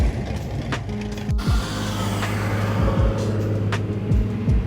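A Mitsubishi Evo drives past, its engine note sliding downward as it goes by, with other vehicle passes and road noise around it and no talking.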